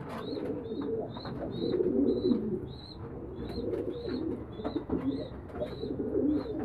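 Homing pigeons coo in a rhythmic series of soft, repeated calls at a pigeon auction in Damietta, close and steady over a dense, busy background murmur.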